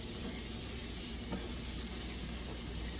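Vermicelli browning in melted butter on a stovetop, giving a steady, close frying sizzle with a faint stir clink midway, continuous hiss throughout and no talking.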